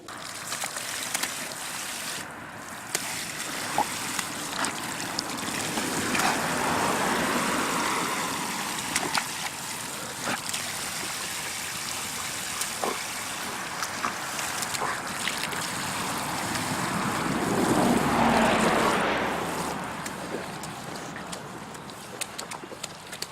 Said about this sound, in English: All right, we're going to stop and water then.